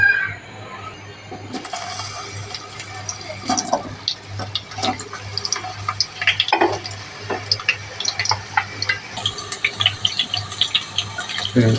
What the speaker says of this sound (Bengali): তেল গরম হয়ে গিয়েছে এখন দিয়ে দেব কেটে রাখা আলু আলুটাকে সুন্দর করে ভেজে নেব